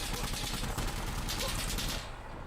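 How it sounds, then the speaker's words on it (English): Rapid bursts of video game gunfire from Insurgency: Sandstorm, bullets cracking by, crack and rattle in quick succession, loud and dense, then cut off abruptly near the end. "the sound effect that is probably most responsible for making gunfights so intense is the sound of bullets cracking by"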